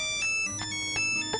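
A voice imitates the ringtone of an old Nokia phone with a small monochrome screen, singing quick trilling phrases several times in a row, close and steady over a faint tonal background.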